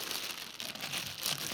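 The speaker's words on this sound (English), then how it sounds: "Then using a plastic bag as a liner," A plastic bag being crinkled and pressed into a plant pot as a liner while potting bearded iris, producing a continuous, close rustling crackle with a few sharper crinkles near the end.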